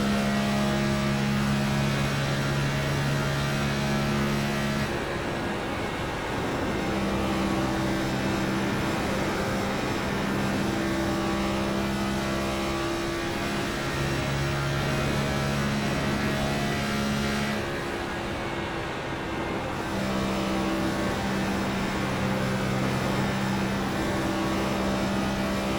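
A NextGen stock car running a hot lap at Kansas Speedway in iRacing: a steady, loud engine drone with sustained tones that shift pitch through the lap, heard alone with no talk.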